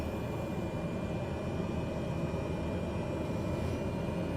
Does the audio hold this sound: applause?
no